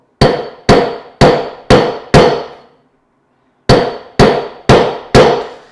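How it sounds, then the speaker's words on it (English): Nine sharp metallic hammer blows on a hand saw blade laid on an anvil ring out in two bursts, five evenly spaced strikes, a pause of about a second, then four more, each with a short ringing decay. "And I make my hammer strikes starting in the middle."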